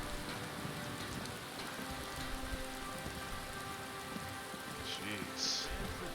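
Steady rain falling in a video game, a faint continuous patter of drops on surfaces with no talking over it.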